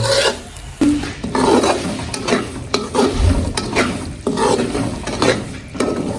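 Semolina roasting in a pan for suji halwa, with a spoon scraping and stirring through the dry grains in repeated rasping strokes and a soft sizzle, close and fairly loud.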